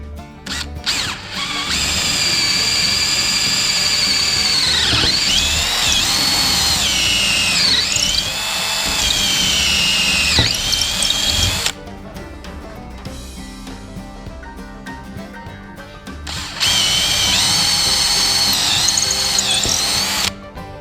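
A hand-held power drill bores a hole with a 7mm bit at the exact center of a sawhorse part, whining loudly and steadily in two long runs with a brief lull between, its pitch sagging and rising as the bit bites.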